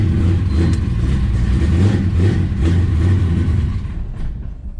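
Cold carbureted car engine, on a morning after a night in the 20s, runs with a loud, close, low rumble. It surges slightly, then tapers off near the end.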